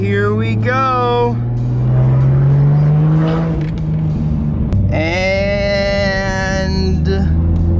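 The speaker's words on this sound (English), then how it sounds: "I love the way this car sounds too" Car engine revving loudly nearby, a low steady drone rising in pitch, while people talk loudly and excitedly over it.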